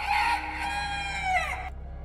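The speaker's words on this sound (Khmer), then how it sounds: "បន្តិចក្រោយមកពូកាបានឮសំឡេងមាន់រងាវ" A rooster crows once in a long, clear cock-a-doodle-doo that rises and then trails off, loud and close, and ends abruptly into silence.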